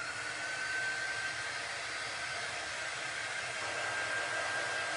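A hair dryer blows steadily on a handmade campfire-themed craft, a continuous even rushing whir with a faint high whine, close and unbroken throughout.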